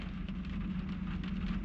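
Steady rain falls in a dense, even patter with a low hum beneath, continuous and close for a short moment with no speech.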